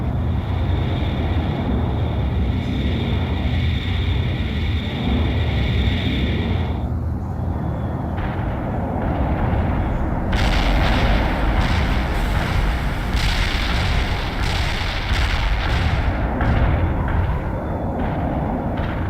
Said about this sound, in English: The artillery strike was off the mark